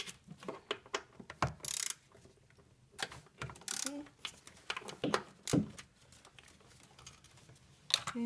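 A ratchet loosens bolts on the intake manifold of a Toyota Sienna 3.5L V6, giving quiet, close clicking bursts between handling knocks and pauses.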